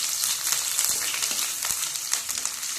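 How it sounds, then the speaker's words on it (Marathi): Chopped onion frying in oil in a pan for a Sole Vange brinjal dish, with a steady dense sizzle, some faint stirring clicks, and no voices over it. "कांदा हा आपल्याला तेलात चांगला गुलाबी रंग येईपर्यंत परतून घ्यायचा आहे।"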